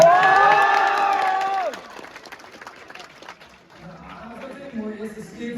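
A crowd at a police club orientation program claps and cheers, starting loud over fading music, then thinning into scattered clapping and voices.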